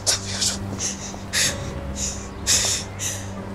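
Panicked gasping breaths from a distressed woman in a Turkish TV drama scene, several sharp, breathy intakes in bursts over a low hum, with no talk.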